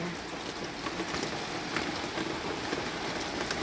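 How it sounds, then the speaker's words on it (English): Heavy rain pours down in a dense, continuous hiss, close and steady without pause. "Look at the rain. It is just pouring."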